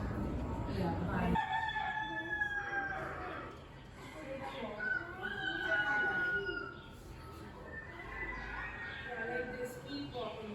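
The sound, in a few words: bird sound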